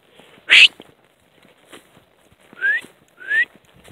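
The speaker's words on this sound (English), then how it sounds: "I didn't want to whistle, but they're getting out of earshot." A person whistles in short bursts: one sharp note, then two rising whistles, outdoors with faint rustling between.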